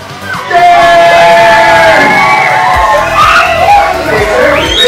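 A crowd of children at a KidPreneur Day event in Prince George's County screams, yells and cheers loudly and continuously, with overlapping shrill voices filling the space.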